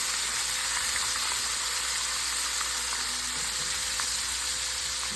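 Sous vide chicken wings fry in hot oil, giving a loud, steady, close sizzle with a dense hiss and occasional faint pops that runs unbroken throughout.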